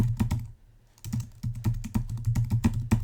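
Keys clack on a computer keyboard in quick irregular bursts, with a brief pause near the start before steady typing resumes, close and moderately loud with no voices.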